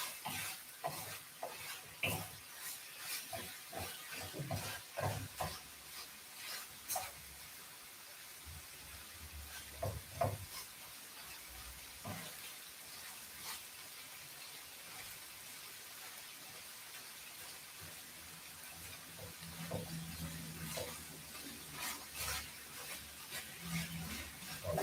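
Big peppers fry in a pan turned up to a simmer, a steady low sizzle with frequent stirring scrapes and clinks of a utensil against the pan throughout, faint and close.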